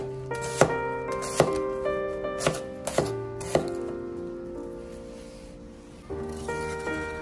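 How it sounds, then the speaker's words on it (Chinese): A knife chops an onion on a cutting board, a handful of crisp, evenly spaced thuds near and clear, then quieter activity with a soft ringing tone underneath. "切好之后再改刀将洋葱切碎。"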